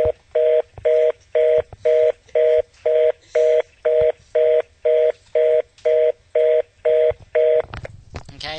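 A busy (engaged) tone on a call to a technical support line, fourteen evenly spaced loud beeps alternating with silences, steady and close, ending in a short burst of line noise.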